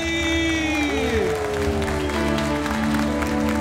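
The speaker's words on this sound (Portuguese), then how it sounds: "Vamos aplaudir o Espírito Santo de Deus" Congregation applauds during an evening Catholic praise and worship service, steady clapping and a few voices over sustained music with held tones, moderately loud and continuous throughout.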